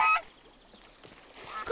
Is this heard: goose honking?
yes